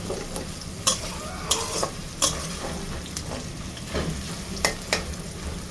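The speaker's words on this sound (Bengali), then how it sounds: "সুন্দর করে এই পেঁয়াজগুলো এবং মরিচগুলোকে ভালো করে ভেজে নিতে হবে।" Onions and green chillies fry in oil over a full flame for a prawn and bottle-gourd-leaf dish, giving a steady close sizzle broken by sharp spatula scrapes and clinks every second or so.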